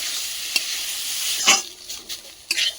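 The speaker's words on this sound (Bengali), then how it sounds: "খুব সুন্দর করে কিন্তু বিট গাজর আমার ভাজা হয়ে গেছে, একদম পুরো কড়াই থেকে ছেড়ে গেছে" Grated beetroot and carrot stir-frying in a wok, a bright steady sizzle broken by a few scraping strokes of a spatula.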